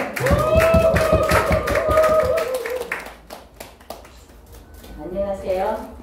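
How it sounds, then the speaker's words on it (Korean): Rhythmic hand clapping from an audience at a pansori Sarangga performance from Chunhyangga, quick even beats at first that thin out and fade, with a person's voice and sung tones carrying over it. "힘찬 박수 보내주시기 바랍니다."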